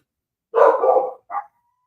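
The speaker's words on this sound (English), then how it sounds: "They're barking at other dogs" A dog gives a short, loud bark, pauses briefly, then adds a second quick yip indoors, close by with no other sound.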